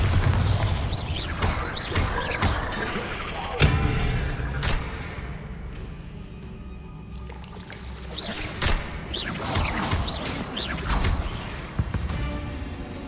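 Bombarda blasting spell explosions in Hogwarts Legacy burst out as repeated loud booms and crashes in a cavern, each followed by crumbling, trickling debris.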